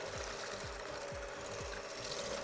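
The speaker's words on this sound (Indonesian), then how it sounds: "ini kalian bisa menggunakan hand mixer atau stand mixer" An electric hand or stand mixer whisks gluten-free chocolate cake batter. It gives a steady, loud motor whir with a regular pulsing thump as the beaters turn, close up and alone.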